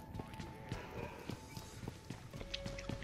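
The player character's own footsteps sound in a multiplayer video game: a steady run of quick, evenly spaced thuds at moderate volume, mixed with faint in-game tones and a speaking voice.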